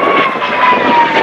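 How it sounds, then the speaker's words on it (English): A P-51D Mustang with a Packard Merlin engine howls loudly in a low flyby at an outdoor rally in Essex, a steady close roar that swells slightly. "Howl from the engine."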